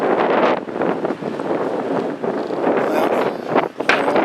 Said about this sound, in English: Oh wow, windy too.